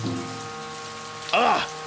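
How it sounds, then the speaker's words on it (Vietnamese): Steady rain patters softly in an animated Boonie Bears cartoon, a continuous light hiss beneath a brief voice-like sound near the end. "Nếu trời cứ mưa thế này cả tuần, em cá ông ta chỉ ngủ ở nhà thôi."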